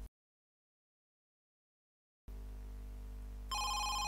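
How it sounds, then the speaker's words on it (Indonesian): A telephone rings in the horror video game Home Sweet Home. After a silent stretch a steady hum comes in, then a loud electronic ring with bright, even tones starts near the end and carries on alone. "Siapa nih yang telepon?"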